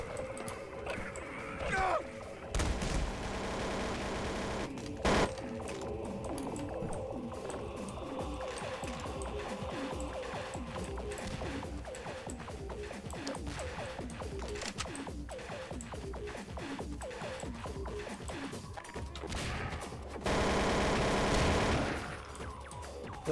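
Rapid video-game gunfire from the multiplayer shooter Obsidian Conflict, dense bursts of shots running continuously throughout with a busy mix of game effects and no talk.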